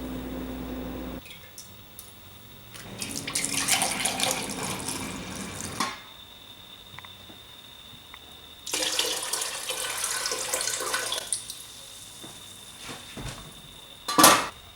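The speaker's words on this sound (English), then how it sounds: "I've cleaned out that disgusting pot of overly fermented tea" Tap water running into a sink in two long bursts while an overly fermented kombucha jar is emptied and rinsed, with splashing, squishing and occasional clinks of glass and utensils, close by, no talk.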